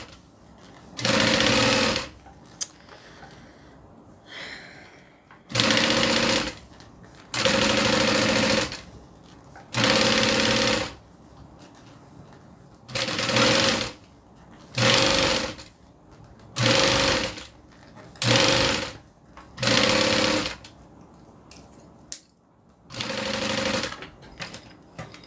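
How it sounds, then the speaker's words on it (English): A sewing machine runs in repeated bursts of stitching through folded fabric, each run lasting one to two seconds and separated by short quiet pauses, loud and close with no talk over it. "It's a great sewing machine."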